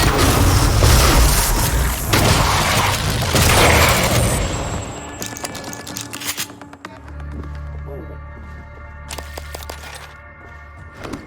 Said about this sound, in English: get up close and, like, you know, smash him up with a shotgun